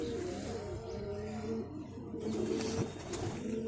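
Pigeons coo nearby, low throaty calls repeating over a steady background hum.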